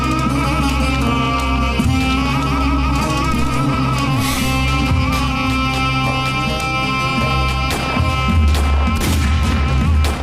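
Gunfire in a TV drama scene: a dense, continuous barrage of loud shots and bursts with booming low rumble, layered over dramatic music with no pauses throughout.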